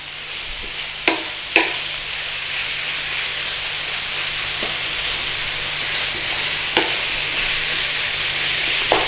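Beef mince frying in a pan for a mince and onion pie gives a steady sizzle and hiss, broken by a few sharp scrapes and knocks as it is stirred and broken up, with no talking.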